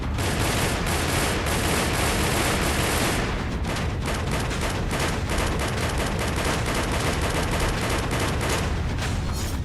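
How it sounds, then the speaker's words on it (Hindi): Heavy gunfire from US troops on a desert exercise in Africa, dense continuous bursts for the first few seconds giving way to rapid repeated shots and loud booms, all loud and close with no voices. "अफ्रीका के रेगिस्तान में अमेरिकी फौज बारूदी ताकत दिखा रही थी"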